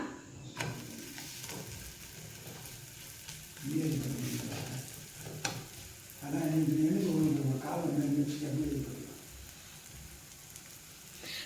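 Sukku adai, made from idli and dry ginger powder, fries in hot oil on a pan with a faint crackling sizzle that swells in a couple of louder bursts, punctuated by occasional sharp clicks.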